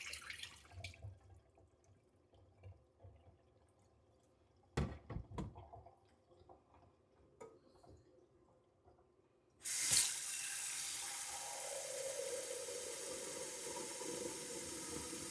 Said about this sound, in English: I'm going to dump the hot water in the sink and put cold water on top of it